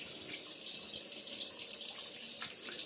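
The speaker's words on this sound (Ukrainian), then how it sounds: "від'єднав розширювальний бак від системи, відтягнув його трошки і зливаю воду" Water drains from a pump station expansion tank disconnected from the system, a steady faint trickling splash with no talking.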